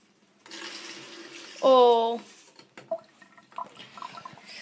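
Cold water is poured onto a burning chestnut, making a brief rushing splash with a short squealing tone in the middle, then faint trickles and drips with a voice in the background.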